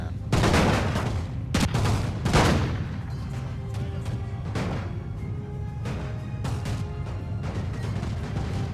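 Volleys of massed rifle and machine-gun fire crackle through a video game battle in a Great War-era German Empire campaign: loud sharp bursts in the opening seconds, then a dense, sustained rattle of distant gunfire.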